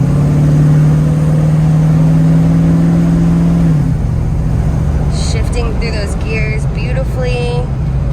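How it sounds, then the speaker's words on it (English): A 1937 Ford Coupe engine holds a steady, close rumbling drone that drops away as the car gets moving, with road and engine noise continuing while a person talks over it. "Like I said, it's got a little rumble to it."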